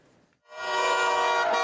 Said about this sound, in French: ce sont les mêmes scènes de klaxons et de joie